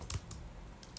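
Computer keyboard typing in a few quick, light taps spread across about a second, set against a low background hum.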